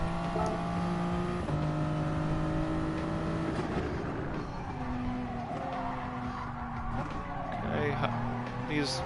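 Race car engine in GT Sport shifting down through the gears, stepped pitch drops followed by revving and some tire squeal, loud and continuous with a voice talking over it.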